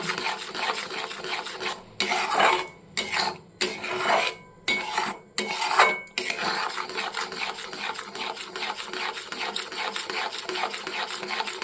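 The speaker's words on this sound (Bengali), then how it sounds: "দেখুন কীভাবে ফুটছে তো তার জন্য কিন্তু সমানে নাড়তে থাকছে" Thick palm-fruit kheer boils in a pot while a spoon scrapes and stirs it continuously, a close, gritty rasping with a few rhythmic strokes before settling into steady bubbling scrape.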